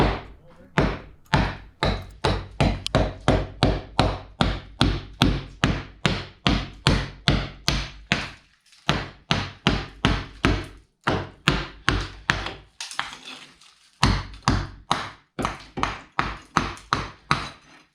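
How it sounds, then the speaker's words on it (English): Repeated hammer blows knocking a brick out of drilled-out mortar with a small sledgehammer, in a garage apartment; steady close, sharp impacts in quick succession, with brief pauses between bursts. "Now all he has to do is get a little sledgehammer and knock that out"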